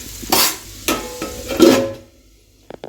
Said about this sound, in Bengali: এই যে এখন আলুটা ভাজছি